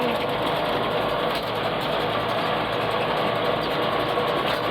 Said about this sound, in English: As soon as I let the clutch out, even with it out of gear, that's when it starts making noise